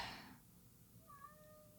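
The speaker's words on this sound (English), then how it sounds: "My cat howling in the background is exactly how I feel about this game." Cat howling faintly in the background of a home podcast recording, a thin wavering cry rising briefly behind low room noise.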